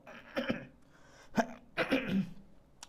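A few short, harsh coughs, one early, one in the middle and a longer burst near the end, close to the listener.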